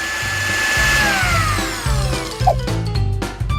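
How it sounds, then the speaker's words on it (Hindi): A kitchen blender grinds black bread into small crumbs with a loud, steady, high-pitched whir that wavers slightly in pitch as the blades bite through the pieces. "इसके बाद ब्लैक ब्रेड को छोटे टुकड़ों में पीसने के लिए ब्लेंडर में डाला जाना चाहिए।"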